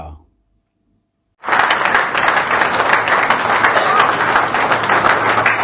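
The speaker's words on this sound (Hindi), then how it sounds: "खड़े होकर सम्मान स्वरूप ताली बजाकर" Silence, then a sudden burst of loud, steady standing applause from a large audience at a book launch, many hands clapping together and continuing without pause.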